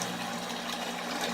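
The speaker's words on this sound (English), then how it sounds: "the first thing I want to do is vacuum out all of the debris I can get" An aquarium gravel vacuum hose sucking water and debris from a fish tank during a water change, a steady close rushing gurgle of flowing water with no pauses or voices.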